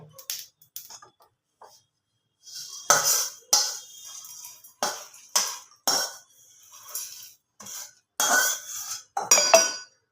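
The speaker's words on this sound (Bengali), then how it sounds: "গ্যাসটা কমিয়ে আমি মিক্সিং জারের মধ্যে ঢেলে নেব" Roasted whole spices for a chicken dish tipped into a mixer jar, a run of dry rattling pours and clinks in short bursts, close and clear, with quiet gaps between.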